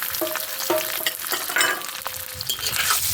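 Sausages fry in a pan for Polish cabbage soup, with a continuous close crackling sizzle and occasional stirring scrapes.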